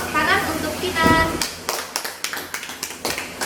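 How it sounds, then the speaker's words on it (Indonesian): Scattered hand claps in a classroom, a short run of individual claps after a student solves an electrolysis chemistry problem, following a brief stretch of talk and sounding thin and uneven rather than a full ovation. "Beri tepuk tangan untuk Kinan."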